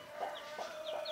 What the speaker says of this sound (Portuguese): E a galinha.